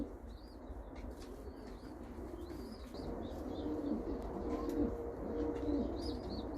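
A pigeon coos repeatedly at its nest beside its chicks, soft low rolling calls over a hum of background noise, with a few faint chirps mixed in and no talking.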